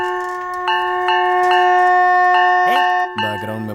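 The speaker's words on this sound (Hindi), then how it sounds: "पियून के साइकिल की घंटी।" A bicycle bell dings several times in quick succession over a sustained ringing tone, followed by a brief swooping sound.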